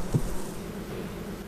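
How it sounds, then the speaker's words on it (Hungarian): Honeybees buzz as a beekeeper opens the hive and brushes bees off the comb, a close, steady hum with one brief louder burst near the start. "Óvatosan lerázzák és lesöprik a szorgoskodó méheket a lépről."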